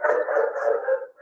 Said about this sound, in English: sorry, I can't hear you over my den of dogs